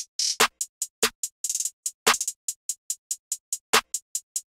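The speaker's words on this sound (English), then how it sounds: "Which I added a clap and a snare to." A programmed FL Studio hi-hat pattern layered with clap and snare hits for a trap beat: steady bright ticking hats punctuated by a few heavier full-bodied snare-clap strikes, dry and upfront, alone.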